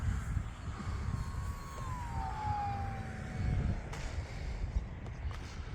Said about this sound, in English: Here we go, back in that throttle.